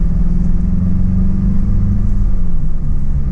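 Toyota Echo economy car engine pulls steadily under acceleration, a loud close rumbling drone whose pitch climbs, dips at a gear change and rises again, heard from inside the cabin.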